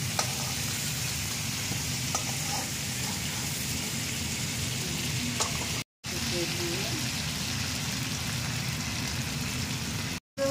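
Prawns frying over a full flame, a steady dense sizzle that runs loud and close with two brief dropouts, while voices talk intermittently over the cooking.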